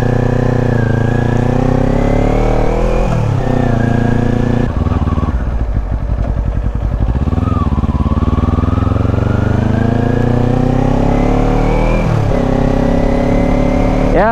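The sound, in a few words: Kawasaki Ninja 250 Fi 2018 motorcycle riding engine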